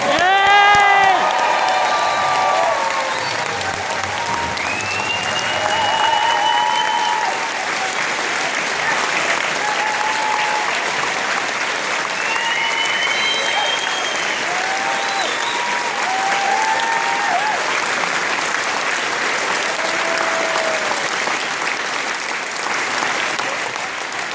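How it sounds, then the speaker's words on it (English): A large crowd at the Royal Armouries in Leeds claps, cheers and whoops to welcome Jeremy Corbyn, loud sustained applause with scattered shouts and whistles rising above it throughout. "So give the biggest possible cheer that you can."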